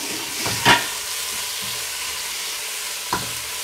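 Tomatoes sautéing in a pan for mutton kurma, a soft steady sizzle with a few distinct scraping stirs, close and moderate in level, no talking.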